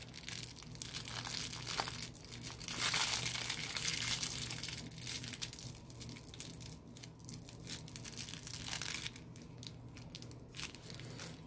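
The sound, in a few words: plastic piping bag twisted and tied shut, crinkling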